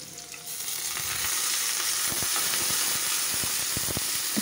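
Green chillies frying in hot oil in a pan for a potato and egg curry, a loud continuous sizzle with small crackles and pops, no voices.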